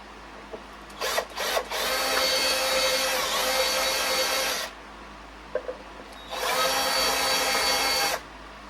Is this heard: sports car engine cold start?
no